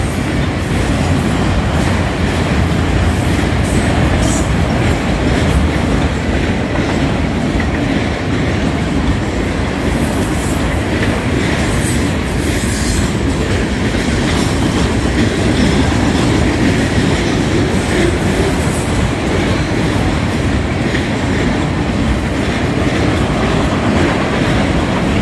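An inbound manifest freight train rolls past at ground level beside a power line trail, a steady loud roar of wheels and cars with rhythmic clatter, continuous and close throughout.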